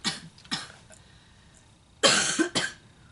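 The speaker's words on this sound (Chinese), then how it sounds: "老是我咳嗽。" A person coughs in two close pairs of sharp bursts separated by a quiet pause, with no talking.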